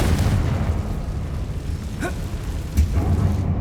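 A Confringo blasting spell explodes in Hogwarts Legacy on PS5: a loud, rumbling low boom rolls under steady game noise, with sharper bursts near the middle and toward the end.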